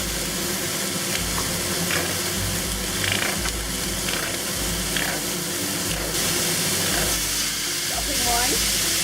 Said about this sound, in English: so just stir fry this for about a minute to cook the peppers